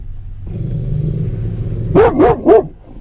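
A dog barks three times in quick succession at nearby horses, close by, over a low rumbling engine-like drone, near the Chief Joseph Highway.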